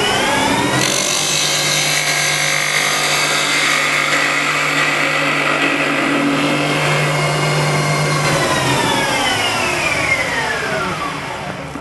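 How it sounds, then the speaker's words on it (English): A spindle gouge cuts a spinning piece of wood on a woodturning lathe, making a steady, loud whirring drone with a raspy cutting texture. Near the end the tone drops as the lathe winds down. "let's see what the spindle gouge can do to that surface"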